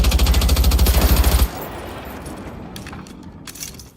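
A sniper rifle in the video game Generation Zero fires a rapid, evenly spaced burst of loud shots that stops abruptly and trails off into fading echoes and faint ambient clatter.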